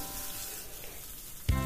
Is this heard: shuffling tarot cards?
no